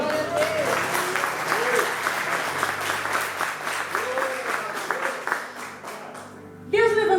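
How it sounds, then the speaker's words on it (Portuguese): A church congregation applauds during a sermon, a continuous wash of clapping from a roomful of people with a voice calling out over it at intervals, then a speaking voice returning loudly at the end. "Vamos aplaudir o Senhor?"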